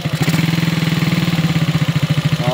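A Haojue 125 motorcycle engine idles close by, loud and steady, with an even, rapid thumping pulse throughout.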